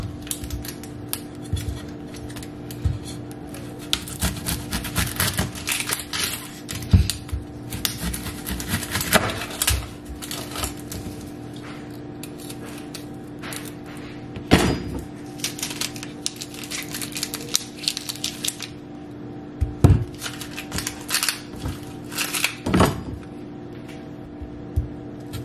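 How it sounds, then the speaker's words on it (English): A knife cuts up an onion on a cutting board for a crockpot meal, giving a steady run of close, sharp chopping taps with brief pauses and a few louder knocks, with no voices. "Now we're gonna cut up the onion."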